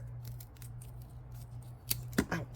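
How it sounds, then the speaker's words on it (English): Scissors snipping leftover stem from a dahlia tuber, a few sharp close cuts clustered near the end over a faint steady background hum. "Pinched my skin between the scissors."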